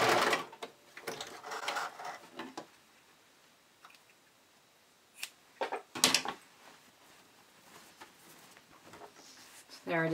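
A sewing machine stitches the corner of a bodysuit garment in short bursts of rapid mechanical chatter, with quiet gaps and a couple of sharp clicks between runs.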